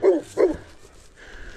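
Two quick, loud barks from a nearby dog, followed by a short pause and quieter low noise.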